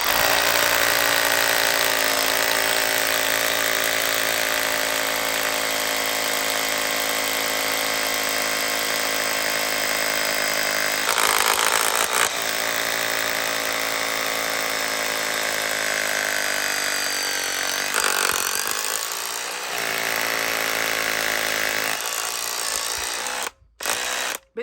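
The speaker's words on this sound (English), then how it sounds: "Old technology, old drill, with a pretty new lithium ion battery." An old SDS drill running on a newer 18-volt lithium-ion battery in a 24-volt tool drills steadily, a loud continuous motor whine with rattling hammer action. The pitch dips and recovers a few times, then cuts off near the end.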